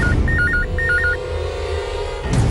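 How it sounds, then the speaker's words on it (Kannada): A telephone rings indoors in a Kannada TV serial scene, two short warbling double rings repeating loudly in a steady pattern, then a held low tone before cutting off. "ಸೂರ್ಯ ಕಿಡ್ನಾಪ್ ಫೋನ್ ಇರಬೇಕು"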